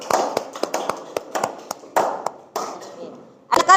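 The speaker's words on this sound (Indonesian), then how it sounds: "Kita kasih aplaus untuk kelompok level 3." A group of listeners gives a short round of scattered hand claps in a classroom, sharp separate claps that come in bursts and thin out over a few seconds.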